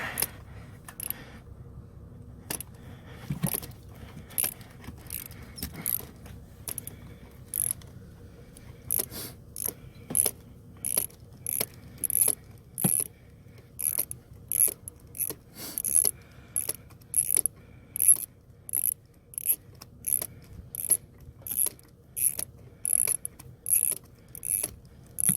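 Ratchet with a 3-inch extension working a spark plug loose on an Acura TL engine: a long run of sharp, close mechanical clicks, sparse at first and then quickening into a steady rapid series.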